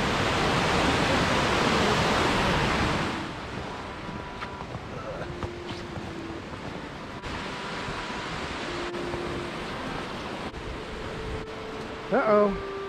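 River rapids rush as a loud broadband roar for the first few seconds, then fall to a quieter steady wash with a few scattered knocks and a brief sharp noise near the end.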